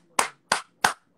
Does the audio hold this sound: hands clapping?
yes